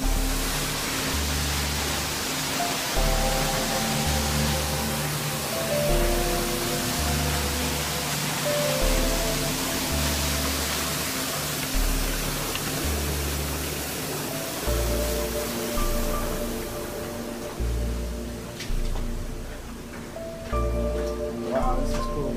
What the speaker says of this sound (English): So thought I'd take a video of me going under the waterfall.